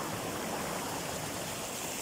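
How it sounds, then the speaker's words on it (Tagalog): Steady rushing water of a flowing river, broad and constant, with no voices. "ito yung ilog"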